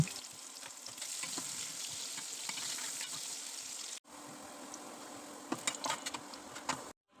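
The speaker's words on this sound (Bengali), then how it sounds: "একটু ভেজে বাদামি করে তুলে নেব" Chopped onion and garlic sizzle in hot oil for a Bengali shing fish curry, a soft steady crackle with occasional sharper pops and brief stirring scrapes, cutting out twice.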